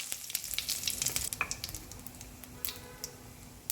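Cumin seeds and curry leaves hit hot oil for a tempering in a farali suki bhaji, bursting into a sharp, crackling sizzle with spitting pops and stirring, close and loud for a few seconds.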